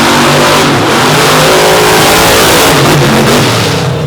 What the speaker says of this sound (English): Wow, what a race between the Chevys.